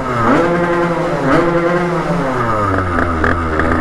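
Stage6 cast-iron 77 cc moped engine with a 28 carburetor revving at half throttle, a loud, close two-stroke buzz whose pitch swings up and down in repeated blips without speech.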